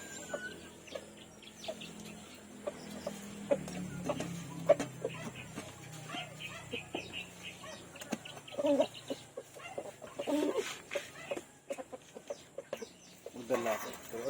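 Rhode Island Red roosters and hens in a breeder flock cluck and chirp at moderate distance, with scattered calls and sporadic bursts throughout while a person talks nearby.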